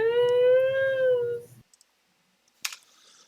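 Dog-like creature in The Escape lets out a single long, wavering howl-like caw, loud and close, followed by silence, a few soft clicks and a brief rustling hiss.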